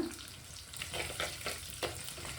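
Curry leaves fry in hot oil in a pan, a soft, low crackling sizzle with a few light stirring scrapes, quiet and close.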